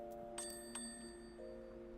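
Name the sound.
crystal bell ringing in Final Fantasy XIV video game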